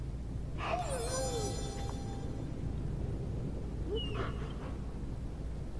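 A dog whimpers and yips in the Marvel Midnight Suns video game, two short whining calls a few seconds apart over a steady low game ambience.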